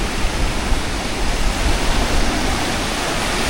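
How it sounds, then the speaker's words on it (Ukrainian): Choppy sea with small waves makes a loud, steady, broadband roar and wash that stays close, with no distinct breaks between swells and no voices. "трішки є хвиля. Море не таке спокійне, як я люблю"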